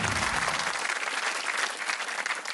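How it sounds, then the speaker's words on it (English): Studio audience applause on a television game show, a dense steady wash of many hands clapping that fills the whole stretch without a break. "you're clapping very enthusiastically."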